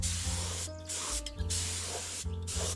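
A steady hiss of an orange spray paint can coating a log trailer runs almost continuously, broken by a few brief pauses between bursts.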